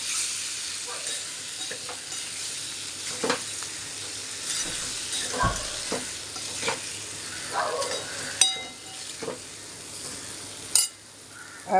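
Potatoes frying with cumin for jeera aloo are stirred in a pan: a constant sizzle with repeated scraping strokes of a spoon and occasional light clinks.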